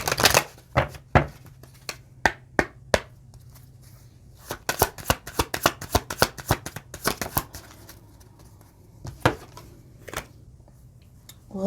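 Tarot cards are shuffled close by in irregular bursts of sharp riffles and flicks, clustering densely in the middle with quieter gaps around them.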